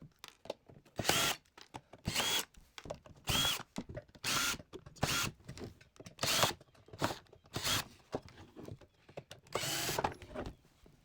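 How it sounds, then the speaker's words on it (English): A power screwdriver takes the silver screws out from around the heatsink of a Boss Katana 50W guitar amp. It whirs in about eight short, close bursts separated by quiet pauses and faint handling clicks. "we're going to take off all these silver screws surrounding this heatsink here"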